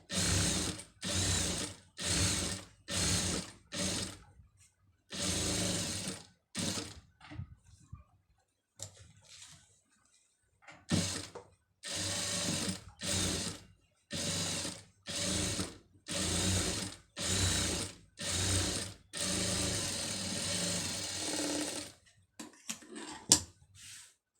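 A sewing machine stitches a silk-border neck design on a blouse, running in short repeated bursts of rapid mechanical ticking and whirring, each burst separated by brief pauses, close and fairly loud with no talking.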